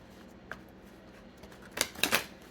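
Black Goddess Within oracle cards are shuffled up close, with faint riffles giving way to a few louder, quick flurries of card slaps near the end.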